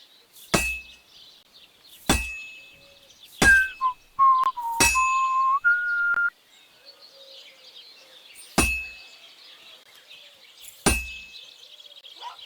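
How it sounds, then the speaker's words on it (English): A blacksmith's hammer strikes a sword on an anvil in Kingdom Come: Deliverance 2, about six sharp metallic clangs spaced a second or two apart and ringing briefly, with a whistled tune weaving between the early strikes. "Now take the hammer and try hitting it a few times."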